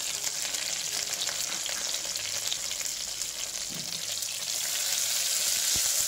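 Curry leaves and a couple of chillies with onion crackle and fry steadily in hot oil for a dal dish, a dense continuous sizzle throughout with a soft knock partway, no voices.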